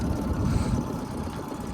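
An outboard motor on a boat on the Ebro at Caspe runs with a rough, steady mid-low chug, close and fairly loud, throughout a short burst.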